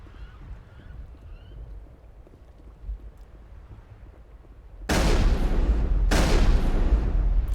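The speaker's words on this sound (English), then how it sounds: "Oh, it's just you shooting the water." In the Mass Effect video game, sustained bursts of gunfire tear into water, loud and harsh after a quieter stretch of ambient wind and rumble, two long volleys with a brief gap.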